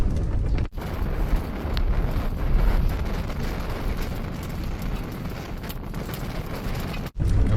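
Strong gale-force wind, around force 8, buffets a campsite on open Gobi desert gravel plain with no shelter, a loud continuous roar with gusty surges and two brief drops, no voices.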